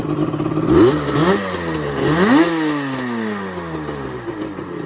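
A 1988 Yamaha Banshee ATV engine runs close and loud, blipped through a few rising and falling revs in quick succession, its raspy two-stroke note clattering between pulls with no voices.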